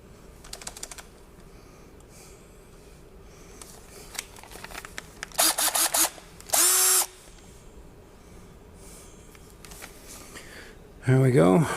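A power tool unscrewing the nose of a model Indycar in short bursts of high whirring, separated by small clicks and handling noises, with quiet talk in the background.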